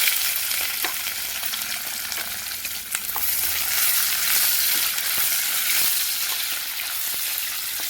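Onions sizzle and fry steadily in a hot pan while being stirred for a quinoa prawn biryani, a continuous close crackling hiss with occasional scraping stirs and no talk.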